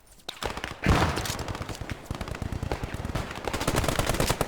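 Loud, rapid bursts of machine gun fire in a Post Scriptum wartime battle game, close and sustained, with overlapping volleys.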